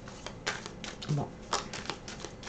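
Tarot cards shuffled in short, crisp riffling flutters close by, with a voice speaking over them throughout.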